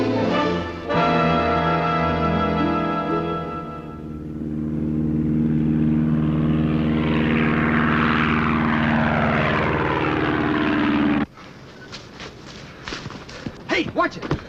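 A propeller airplane in a 1965 television drama, its droning engine rising in pitch and holding steady for several seconds before cutting off abruptly, with voices and movement after.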